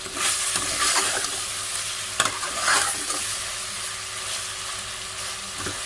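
Chicken for Pakistani biryani fries in a pot while being stirred, giving a continuous close sizzle with repeated scraping strokes and a couple of sharper clanks, all without speech.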